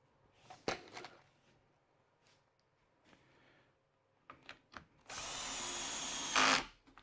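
A power drill drives screws into a wooden roll cabinet in a workshop. A few quiet taps and clicks come first, then a close, loud burst of whirring drill lasting over a second that stops abruptly.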